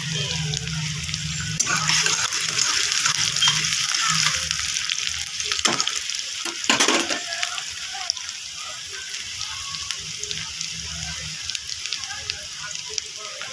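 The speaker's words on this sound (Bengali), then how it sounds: "আমি পেঁয়াজটা বেশি লাল করব না, হালকাই ভাজবো" Onions frying lightly in a pan for paneer bhurji, a steady close sizzle running throughout with a few brief stirring clatters in the middle.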